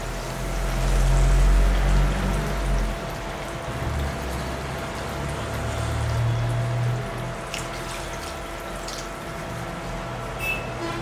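Water for a mushroom masala heating in a pan, a steady soft hiss and bubbling simmer that continues throughout with faint clinks near the end.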